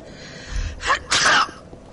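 Someone sneezes once, loud and close: a quick sharp intake of breath followed by a bursting, noisy expulsion.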